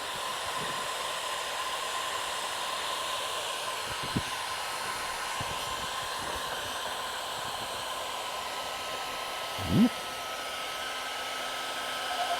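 A heat gun blows hot air while car wrap film is applied, giving a steady, even whooshing roar that runs throughout with a few faint handling knocks.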